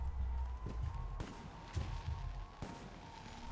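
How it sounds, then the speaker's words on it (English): Fireworks bursting in the video game Alpha Protocol, several sharp booms and crackles spaced across a few seconds over a steady game background hum, moderately loud. "The noise from those fireworks should cover the sound of gunfire."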